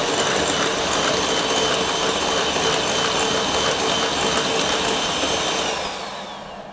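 An electric mixer beats egg into a mixture for orange curd in a bowl, giving a steady, close whirring and grinding drone that runs without a break and then tapers off at the end.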